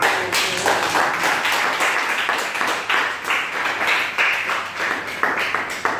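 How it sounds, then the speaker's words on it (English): A studio audience applauds at a cooking competition results announcement, a dense, loud and continuous round of clapping that holds steady throughout, with no talk over it. "Please, a round of applause."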